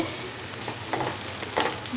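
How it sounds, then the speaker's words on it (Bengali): Onions frying for biryani, a brief close sizzle with a few stirring scrapes, no talking. "যে সুন্দর করে আমি কিন্তু পেঁয়াজটা ভেজে নিচ্ছিলাম"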